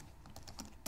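Code being typed on a computer keyboard: a short quick run of light, uneven key clicks, faint and close, with no voice over it.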